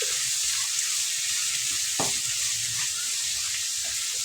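Onions sautéing with a pinch of rock salt in a pan for a dried-fish thokku, a steady close sizzle filling the whole stretch with one sharp stir or scrape of the spatula midway, no talking.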